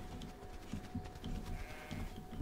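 Sheep bleat in the survival video game Dark and Light, several quiet, wavering calls repeating over a soft, steady ambient background.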